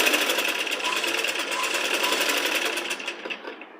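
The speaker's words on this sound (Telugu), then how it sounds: "ఇప్పుడు స్టిచ్ చేసుకోండి" A sewing machine runs steadily, stitching the top of a small child's Punjabi dress, its motor whirring with a rapid, even needle rhythm, close and fairly loud throughout before easing off at the end.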